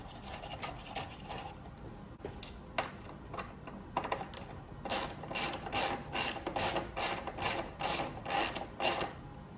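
Screws are driven into a plastic grille insert on a 2014+ Toyota Tundra, giving a close series of rapid ratcheting clicks that grow louder and more regular toward the end, with no talking.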